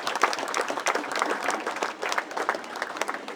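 An audience at a Lions Club address in Washington, D.C. claps in a dense, sustained burst of applause that rises and dips slightly but never stops across the few seconds.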